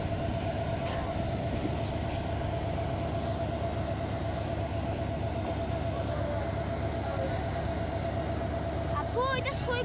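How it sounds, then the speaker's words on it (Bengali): Saikat Express train heading to Cox's Bazar at busy Chittagong railway station, a steady loud rumble of the passing train holding through the whole stretch with crowd murmur and faint voices underneath. "আপু দেখেন না, সৈকত এক্সপ্রেস কক্সবাজার চলে যাচ্ছে।"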